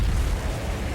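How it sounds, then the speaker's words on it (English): Car wreck explosion in the horror film Phantasm, a loud sustained low booming roar filling the whole moment with no pause. "Tall man wrecks the car into an explosion."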